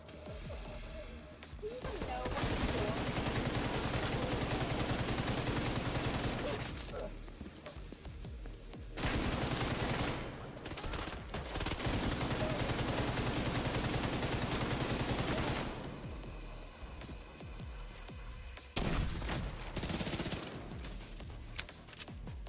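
The Division 2 firefight has long stretches of loud, continuous rapid fire separated by quieter pauses. Single heavy impacts and game effects are mixed in.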